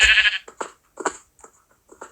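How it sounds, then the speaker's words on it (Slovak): Several short goat bleats from the Minecraft One Block game, the first loud and close, followed by fainter, spaced bleats with gaps of silence between them. "To čo tu robí koza hore?"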